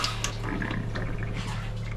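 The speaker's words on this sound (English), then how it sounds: "You'll see a little bit of water sputtering out like this." Water sputters and splashes from a travel trailer sink faucet with the camper's water pump running, a steady close hiss with irregular spurts throughout.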